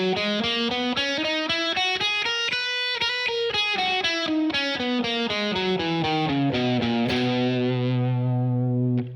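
An electric guitar with distortion plays a major scale finger exercise, about thirty evenly picked notes climbing then descending, each note crisp and close, ending on a held final note.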